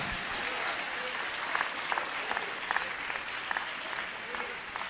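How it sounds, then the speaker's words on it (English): Church congregation applauding together in steady, moderately distant clapping that carries on through the whole moment, with scattered louder claps standing out. "Will y'all clap for these people?"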